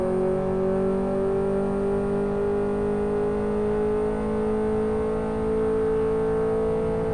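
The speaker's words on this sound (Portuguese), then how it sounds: "Passa a marcha com a turbina cheia." A Ford Landau 5.0 turbo in the Live for Speed racing game drones steadily at high revs, its engine tone holding loud and continuous as the gear changes under full turbo boost.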